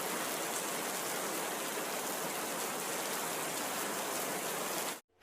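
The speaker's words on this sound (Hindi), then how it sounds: "बारिश तेजी से बरस रही थी, रुकने का नाम नहीं ले रही थी।" Heavy rain pours down in a dense, steady hiss, loud and unbroken for about five seconds before cutting off abruptly at the end.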